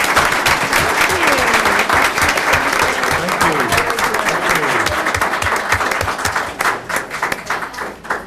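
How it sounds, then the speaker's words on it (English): A crowd applauds loudly and continuously at a school board meeting, dense clapping filling the room with a few voices faintly mixed in. "if we can all give them a great round of applause"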